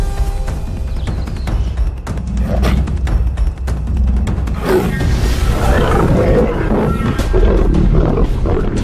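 Deep, rumbling lion roars rise and swell across the clip, loud and close, layered with growling from more than one animal.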